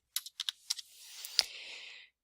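A short burst of typing on a computer keyboard: a handful of quick, light key clicks, close and quiet, followed by a soft trailing hiss.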